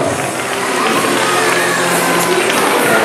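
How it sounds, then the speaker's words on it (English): Applause and cheering from a school crowd for a class, a continuous dense roar of clapping and shouts filling the whole stretch at steady loudness with no clear pauses. "Give them a round of applause"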